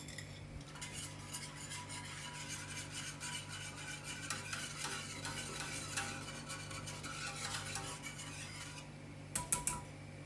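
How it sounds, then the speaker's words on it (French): Sweetened condensed milk being stirred into hot liquid before it boils, for a cappuccino cream: steady scraping and clinking of a utensil in a pot over a low hum, with a sharper clatter near the end. "j'incorpore le lait concentré sucré à ma préparation avant ébullition"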